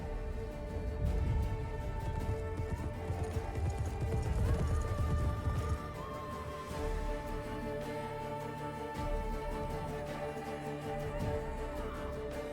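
An armored horse walks in the video game The Witcher 3, its hooves clip-clopping steadily at a moderate distance beneath sustained musical tones and low rumbling.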